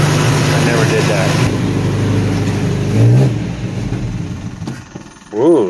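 A 1975 Chevy LUV engine running for the first time in years revs loudly up close, then settles lower and fades, with a person speaking over it.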